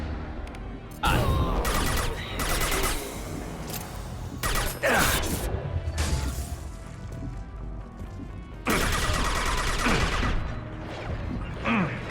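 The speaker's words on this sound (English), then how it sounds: "Firing a high impact shot." Heavy gunfire in Mass Effect 2: several loud, sharp shots and crashing impacts in bursts with short gaps, mixed with game effects and background music throughout.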